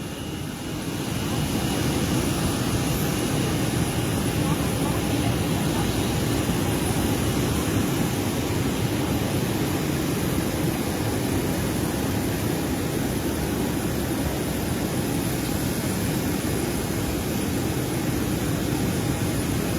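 A Batik Air jet airliner arrives with a sustained, loud roar of engines that holds steady for the whole stretch, broad and unbroken, with no talk.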